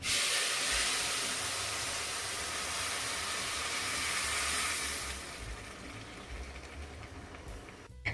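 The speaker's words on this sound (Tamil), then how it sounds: "இப்போ நம்ம சுடு தண்ணி சேர்த்துக்கலாம்" Hot water hits roasted broken wheat rava with a loud, broad steaming hiss that fades after about five seconds into a quieter bubbling simmer.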